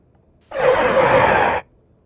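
Sudden car braking sound effect for a road-safety radio spot: a single loud, broad screech-like burst lasting about one second, starting abruptly and cutting off cleanly, with no talk.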